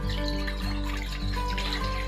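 Water pours steadily into a vessel for homemade yogurt, a continuous close splashing gush with a faint ringing tone and no pauses or talk.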